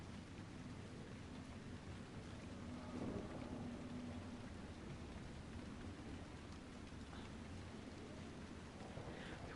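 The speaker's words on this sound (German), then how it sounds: "Oh Gott, da war ein Blitz." Thunderstorm with steady rain in the video game Dragon Age Inquisition, a faint, constant wash of rainfall with a soft rumble of thunder partway through and no voices.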